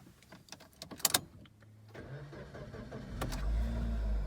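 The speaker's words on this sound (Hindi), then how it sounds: "चलो इसके लिए सबसे पहले गाड़ी को स्टार्ट करते हैं।" A 2008 Suzuki Swift 1.3, Japanese version, is started: a few clicks and small knocks, then the engine cranks and catches, settling into a steady, close, rising rumble at idle.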